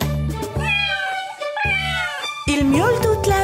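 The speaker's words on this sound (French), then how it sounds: "Il miaule toute la journée" A cat gives three drawn-out meows in a row, close and fairly loud, each one rising and falling in pitch, with the last one longest.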